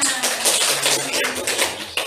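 Classroom group clapping, a short burst of many hands patting together in quick uneven rhythm, with faint voices underneath.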